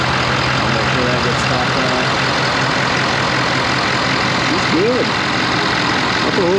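A Ford 6.7 Powerstroke diesel truck engine, just back together after an upper oil pan repair, runs at a loud, steady idle close by, with voices speaking faintly underneath.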